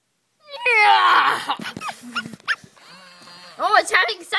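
Giant dog in a video game barking and whimpering, loud strained yelps and whines near the start, then softer intermittent cries with people talking over them.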